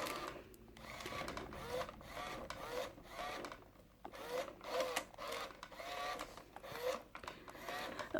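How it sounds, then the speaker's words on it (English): WowWee Roboraptor toy robot dinosaur's head motors whirring and grinding in repeated short bursts as the head turns, close and fairly quiet with no talking. "those are the only times you can really hear the motors in him, and it's only really his head moving like this that is noisy"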